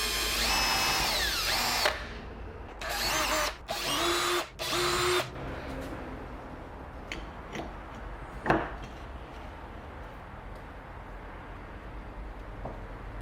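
A power drill whirs in several short bursts, drilling 2.5mm pilot holes for a door handle, with quiet clicks and handling noises in the pauses between.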